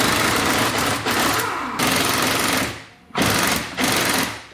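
Dirty, crud-filled U-bolt nuts on a 1963 Lincoln rear suspension are spun off with a power socket tool, making loud, rapid buzzing bursts with short pauses between them, close up.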